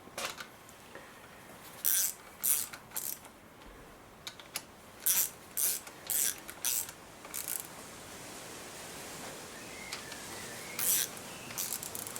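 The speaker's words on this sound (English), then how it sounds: "So now just need to tighten those bolts down." Bolts being tightened during a Triumph Spitfire 1500 engine rebuild, with bursts of close, sharp ratchet-like clicking in short runs separated by brief pauses, then sparser clicks toward the end.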